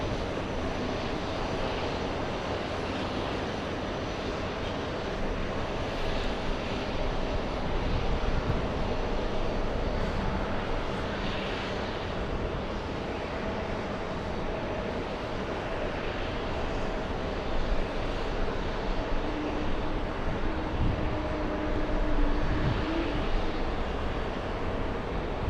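Airplanes at JFK airport produce a continuous, distant jet engine rumble and roar with slow surges in loudness over about twenty-five seconds, with no voices.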